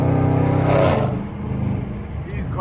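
A catless Dodge Scat Pack V8 rumbles loudly while driving, a deep engine drone that swells briefly and then settles into a lower steady hum, with someone talking over it.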